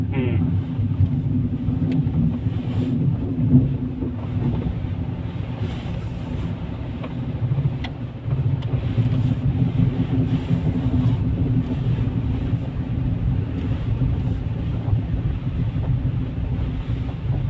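A car climbing a narrow mountain road over Padhri Jot pass gives a continuous low engine and road rumble with wind buffeting, while people talk inside throughout.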